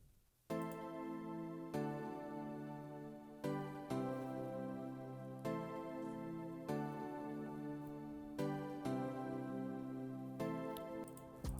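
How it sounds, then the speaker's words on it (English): A chord progression played on the Nexus Ballad E Piano 1 preset for an Afrobeats hook, sustained electric-piano chords struck about every two seconds in a steady, soft, even rhythm with no voices. "this sound was picked from Nexus under the piano category, and I'm using Ballad E Piano 1."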